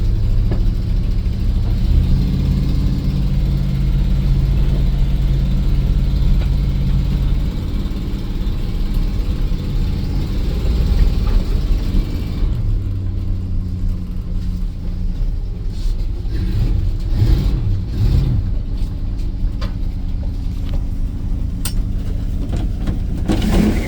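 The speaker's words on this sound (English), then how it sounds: "I'm gonna go ahead and move this car." A 1977 Dodge car engine running steadily, a loud, rough mid-pitched drone that rises and falls with revs as the car creeps along, with some rattling and knocking toward the end.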